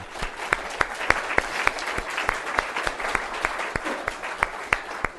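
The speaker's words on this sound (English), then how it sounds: "So I think we ought to give a big clap for Dr. Tom." A small audience claps for Dr. Tom at an addiction-recovery gathering: sparse, distinct handclaps ring out in a loose, uneven rhythm, fairly close and moderately loud throughout.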